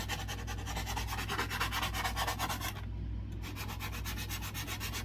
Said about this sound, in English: So I'm just going to give it a little bit of sanding right now